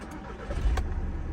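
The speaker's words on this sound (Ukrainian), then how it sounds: "Зараз заведемо автомобіль, мотор працює чітко, рівненько" A Skoda Superb 2.0 TDI diesel engine cranks briefly and catches, turning over into a low, even idle; short, close and moderately loud.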